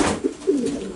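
A racing pigeon coos on basket day at a young-bird race loft, giving a soft, throaty burbling call with a couple of rolling pulses in about a second. The bird is close and clear over light background noise.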